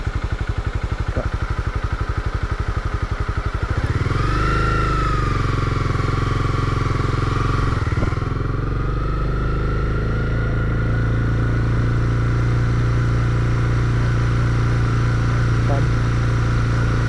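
A Honda CB300R motorcycle ridden by a beginner at steady throttle: the engine thumps at idle, then revs up and settles into a constant, close drone while people talk over it.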